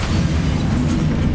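A Bombarda blasting spell detonates in Hogwarts Legacy, heard as a dense, sustained low rumble that stays loud and steady for over a second, with no voices over it.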